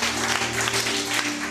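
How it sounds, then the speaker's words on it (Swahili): A church congregation claps for Jesus at a worship service, a dense, steady wash of applause over a low sustained hum, continuous and fairly loud through the short burst. "Pigia Yesu makofi mazuri"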